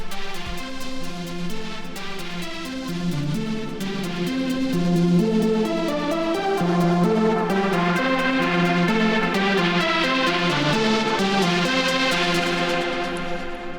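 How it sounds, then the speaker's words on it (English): Stacked EDM drop leads from FL Studio, a bright high pluck layered over a thick supersaw, playing a dense melodic pattern loud and continuous with no voices. "you can hear that high pluck, and almost under it is like the soar, the super soar sound"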